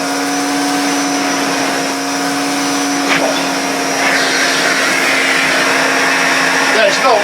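A damaged Hoover Constellation vacuum cleaner, missing its hose, runs loud and close with a steady whining motor hum that holds at an even pitch throughout, with a few faint knocks partway through.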